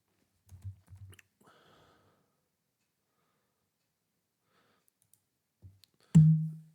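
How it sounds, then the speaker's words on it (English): Someone types a short word on a computer keyboard, a few soft quick key clicks in a cluster, then quiet, then a couple more taps ending in a louder thump. "From the start button we will type maps"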